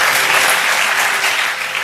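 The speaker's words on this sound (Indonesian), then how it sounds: "Tepuk tangan bagi Tuhan." A church congregation claps loudly and continuously, a dense wash of steady applause filling the hall with no talking over it.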